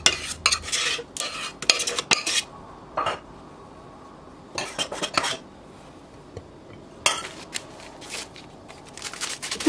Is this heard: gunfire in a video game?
no